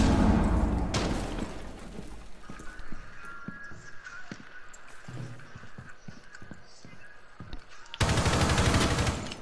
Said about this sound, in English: one of them just got shot